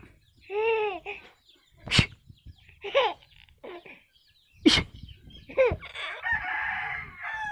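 Chickens cluck and a rooster crows in short bursts, with a drawn-out crow near the start and sharp, close calls and clucks scattered through the rest between quiet gaps.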